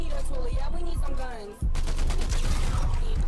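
Gunfire in Fortnite, loud rapid bursts of shots up close, with a voice talking over the first half before the shooting thickens into dense volleys.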